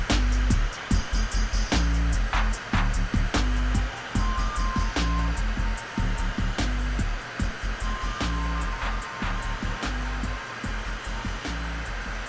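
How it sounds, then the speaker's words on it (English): A glassworking torch flame pre-warming a glass tube gives a steady, close roar that runs the whole time, with faint clicks and a few light tones over it and no speech. "So I'm going to pre-warm this a bit, nice soft flame,"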